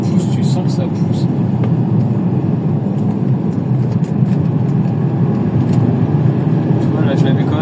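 A Mercedes E350 coupe (C207) engine pulls with a strong, throaty drone as it accelerates, running continuously beneath someone talking in French inside the car.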